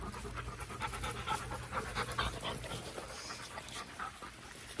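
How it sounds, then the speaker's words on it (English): Several puppies pant rapidly and steadily at close range in a yard on a warm day, with occasional soft whimpers mixed into the breathy rhythm. "Puppies are everywhere."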